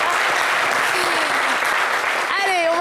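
A television studio audience applauds steadily, a dense, loud wash of clapping sustained from start to finish, with a brief tonal voice or jingle surfacing near the end.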